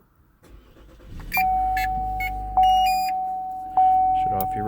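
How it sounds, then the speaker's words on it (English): A 2018 Chevrolet Malibu starts up and settles into a low, steady idle while electronic dashboard chimes ring three times at regular intervals. "Start the car."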